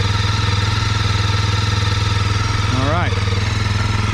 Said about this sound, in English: so let that idle